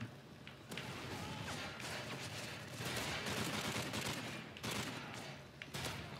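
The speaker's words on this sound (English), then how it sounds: "Shotgun time." Shotgun blasts and rapid gunfire from a Call of Duty wave mode match fill the clip, a dense and continuous barrage of shots and impacts heard at moderate level throughout.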